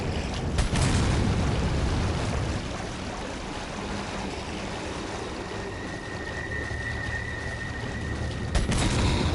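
A hand grenade goes off in Resident Evil 4, a loud booming blast with a rumbling, debris-filled tail that fades into lingering low noise, followed near the end by another sharp crack.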